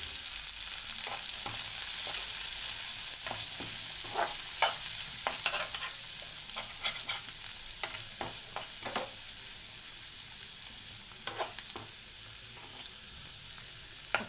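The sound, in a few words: onions and green chillies frying in oil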